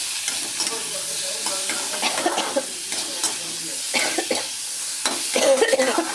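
Onion and tomato sautéing with salt in a pan for chutney, a steady soft sizzle with scraping stir strokes throughout, close and moderately loud, no talking.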